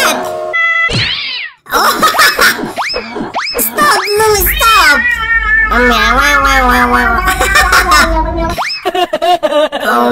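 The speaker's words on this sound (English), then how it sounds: "Oh, he's the angry cat!" An angry cat meows and yowls loudly in drawn-out, wavering cries, mixed with cartoonish boing effects, while a person shouts over it.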